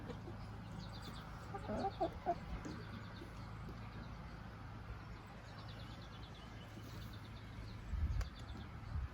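Hens cluck in bursts over a steady low hum outdoors, several birds calling at moderate distance with a brief louder cluster near the end.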